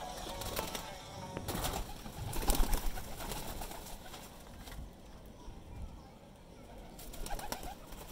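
Baby pigeons coo softly in a loft, with low throaty calls and occasional rustling or wing movement, fairly quiet and close, while someone talks intermittently.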